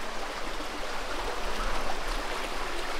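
Water rushing and splashing continuously, a fast knee-deep stream swirling around wading legs at Robber's Cave (Gucchu Paani), Dehradun, with no talking.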